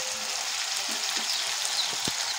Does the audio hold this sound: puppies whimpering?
no